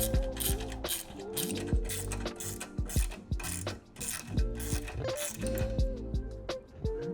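A ratchet tightens the pannier rack mounting bolts on an e-bike, making rapid, close metallic clicks in repeated bursts, with brief pauses between strokes.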